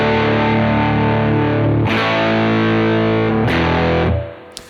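Distorted electric guitar plays rock power chords in a classic hard rock style. Thick, loud chords ring for about two seconds each, three in a row, and the last one is cut off into near silence. No voices are heard.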